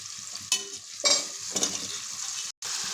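Potato pieces are stirred into softened, cooked tomatoes in a frying pan: a steady sizzle broken by three distinct scraping stirs about half a second apart, then a brief dropout before the frying hiss resumes.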